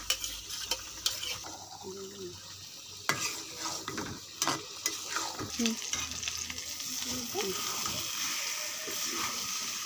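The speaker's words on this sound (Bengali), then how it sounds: "এখন সেই মাংসটি দিয়ে দেবো, মিনিট করে মাংস দিই মশলার মধ্যে দিয়ে দেবো, দিয়ে ভালো করে কষাবো।" Meat stir-fried with spices in oil, a steady sizzle with repeated scraping and clinks of a stirring utensil against the pan, close by, with a voice now and then.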